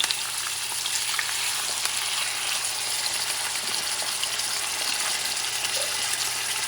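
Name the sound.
onions with pepper and corn sizzling in the pan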